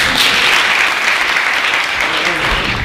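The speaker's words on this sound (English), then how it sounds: "You can clap." A talk show studio audience claps steadily and loudly throughout, a dense wash of hand claps with no pauses.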